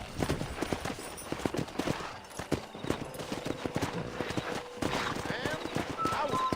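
Horse hooves clip-clopping in Red Dead Redemption during horse wrangling, a busy run of hoof beats over game ambience, with a horse whinny and a voice speaking over it.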